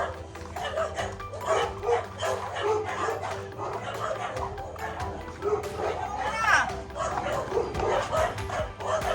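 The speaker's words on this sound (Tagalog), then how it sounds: "May aso." A dog barks and yips repeatedly at close range, mixed with whimpers, while people talk over it throughout.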